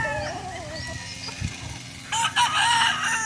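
Roosters on a Philippine farm: a drawn-out crow rises and falls early on, then more crowing swells louder near the end over a low background murmur.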